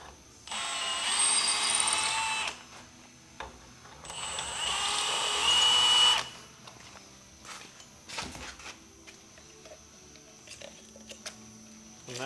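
A 9/16 reamer cuts a 1/4 pipe thread into metal during a 6.7L Powerstroke HO engine install, heard as two loud, steady bursts of high whining power-tool cutting, each about two seconds, followed by quieter clinks and handling noise.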